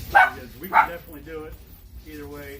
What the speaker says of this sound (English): Sorry about the dogs once again barking.